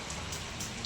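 Steady rain falls on a surface during a monsoon-season festival celebration, a dense, even patter with no pauses, heard alone for under a second.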